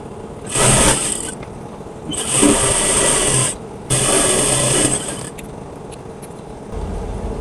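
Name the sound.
sewing machine stitching a kameez sleeve hem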